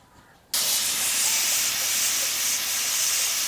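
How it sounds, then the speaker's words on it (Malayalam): Pressure cooker cooking chicken kabsa bursts into a loud, sustained steam hiss after a brief quiet moment, the hiss continuing strongly to the end. "നമ്മുടെ കപ്സ ബിരിയാണിയിൽ 2 വിസിൽ വന്നിട്ടുണ്ട്"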